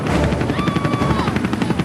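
A U.S. Marines military helicopter's rotors thump in a loud, rapid, continuous beat with roaring wind noise, very close and overwhelming.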